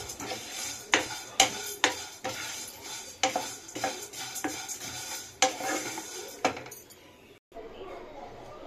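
Hard rice vermicelli dry roasts in a pan, with repeated rhythmic scraping and clattering strokes from a stirring utensil, close and loud, before a brief pause near the end.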